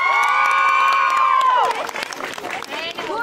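A crowd cheering and shouting, with high voices and whoops, starting as a loud sustained cheer that breaks into scattered shouts and some clapping, close and busy throughout.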